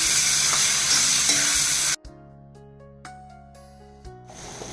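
Shallots frying in a pan for a Godavari-style raw prawn curry with cashews and mango, a loud, close, hissing sizzle for about two seconds before it cuts to a much quieter, humming background.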